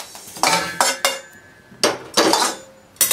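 Roasted finger millet (ragi) is tipped and scraped into a metal vessel. There are several sharp, close metallic clanks and rattling scrapes in separate bursts, with no talking.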